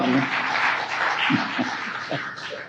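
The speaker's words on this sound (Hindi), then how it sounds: "एक ताली तो शशि जी के लिए होनी तो चाहिए" An audience at a talk show applauds for Shashi ji, a steady wash of clapping that continues while a voice speaks over it.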